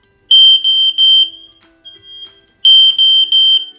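A mains-powered smoke alarm's test button sets off two bursts of rapid, piercing high beeps. A short pause separates them, with faint quieter chirps in between.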